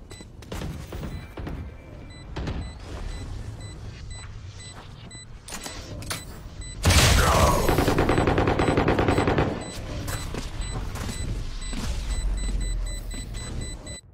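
Automatic gunfire in a battle royale video game, scattered shots early then a loud sustained burst of rapid fire close by, followed by continued shooting and game noise.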